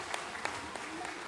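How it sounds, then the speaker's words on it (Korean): Congregation applauding during a Sunday worship service at a church in Daegu, a brief, steady patter of clapping at moderate level with a few sharper claps standing out. "하나님께 영광의 박수 올려드립니다."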